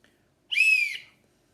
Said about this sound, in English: A whistle.